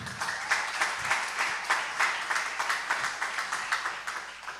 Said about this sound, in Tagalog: Palakpakan natin ang ating dakilang Diyos na buhay